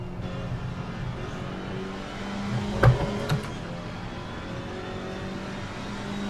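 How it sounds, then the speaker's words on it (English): A McLaren GT race car in the Assetto Corsa Competizione racing game drones with a steady engine hum, broken by two short sharp knocks midway, with no voices. "we've got a Mclaren chasing us down now"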